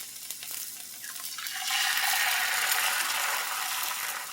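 Meat searing in a hot Lancaster No. 8 cast iron skillet over medium heat, a hiss that swells after a brief quieter start into a steady loud sizzle, close and alone.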